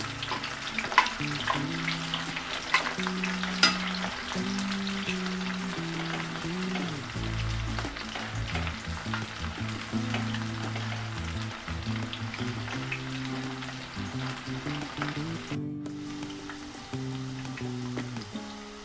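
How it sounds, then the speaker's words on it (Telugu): Cauliflower florets frying on low flame in a pan for roadside-style gobi fried rice, a continuous close sizzle and crackle with faint scraping underneath. "కాలీఫ్లవరు ఎంత బాగా వేయించుకుంటే క్రిస్పీగా ఫ్రైడ్ రైస్లోకి చాలా బాగుంటుంది"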